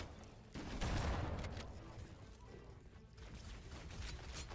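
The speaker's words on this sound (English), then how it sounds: "Oh no, the flood figured out how to use guns." Gunfire from Flood enemies in Halo: Combat Evolved rattles through a noisy battle mix, a rough, continuous crackle of shots that swells early and then holds steady under game ambience.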